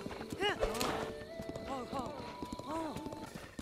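Horse hooves clip-clop steadily in The Legend of Zelda: Breath of the Wild, with a whinny and other game sounds, while someone talks over it throughout.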